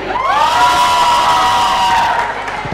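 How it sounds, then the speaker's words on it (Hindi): Loud crowd cheering and whooping in a studio audience on a Hindi cricket show, a sustained roar with shouting voices. "तो एक बार जोरदार तालियां"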